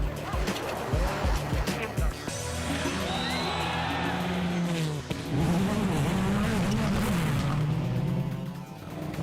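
WRC rally cars racing flat out on icy, snowbank-lined Swedish stages: engines rev loud and high, rising and falling as they pass close by, with a voice talking over part of it.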